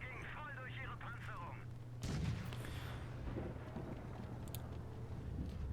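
Tank cannon fire in the mobile game World of Tanks Blitz: a heavy boom lands partway through over a low rumbling engine drone, with game voice chatter at the start.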